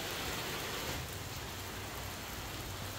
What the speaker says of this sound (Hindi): बहुत तगड़ी बारिश पड़ रही है।